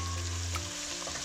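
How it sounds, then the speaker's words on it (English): Five-spice pork belly sizzles and crackles in a hot pan, a brief close frying hiss with a low hum beneath it and no talking. "Let that sizzle"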